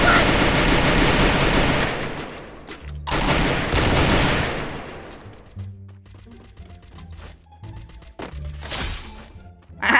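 Rapid bursts of automatic gunfire in the Free Fire shooter game, loud dense volleys in two long stretches followed by scattered sharper single shots and cracks, with voices talking in between.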